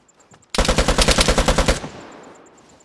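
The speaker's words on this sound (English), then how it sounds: "One gun sprayed down." Sustained automatic gunfire sprays in a rapid burst of about a dozen loud, evenly spaced shots in the video game Vigor, then cuts off and leaves a faint tail.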